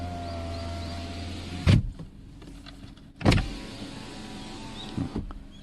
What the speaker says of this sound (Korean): 좌측에 보시면은 이 윈도우 오토는 그냥 운전석에만 있어요.